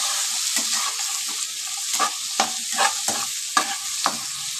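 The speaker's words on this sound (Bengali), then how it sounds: "এবারে এই আলুটাকেও আমি একটু ভাজা ভাজা করবো।" Potatoes and onions fry in hot oil in a pan while being stirred, a continuous close sizzle broken by repeated scraping strokes of the spatula.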